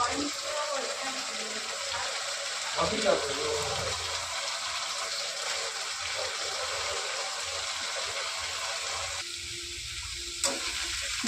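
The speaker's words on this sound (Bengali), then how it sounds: "এবার আমি মিক্সির বাটি ধোয়া জলটা দিয়ে দেবো এর মধ্যে" Water rinsed from a mixer jar poured into masala frying with grated papaya, a continuous loud sizzling rush of liquid hitting the hot pan, with a few clinks and a short quieter dip near the end.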